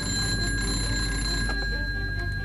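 An alarm bell rings for an emergency takeoff of Messerschmitt Me-262 jet fighters, a steady, unbroken metallic clatter that lasts the whole moment. It is loud and close over a dense rumbling background, with no voices.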